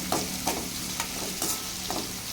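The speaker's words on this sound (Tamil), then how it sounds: "வெங்காயம் வந்து நல்லா வதங்கணும்." Onions sautéing in a pan for a spinach and egg rice dish, a steady close sizzle broken by several regular scraping stirs of a spatula, with no voices.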